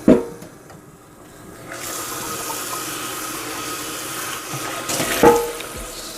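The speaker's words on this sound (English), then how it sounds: "So I have hot water running." Hot water runs steadily from a kitchen tap over a Paderno cast iron pan being rinsed, a continuous broadband rush that starts after a brief knock and quiet gap and holds at an even level throughout.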